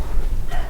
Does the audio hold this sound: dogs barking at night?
yes